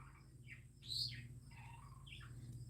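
Pet bird chirping in a home, several short scattered tweets and squeaks of varying pitch over a steady low electrical hum, fairly faint and with no talking.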